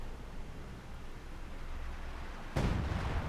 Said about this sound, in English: howitzer firing away there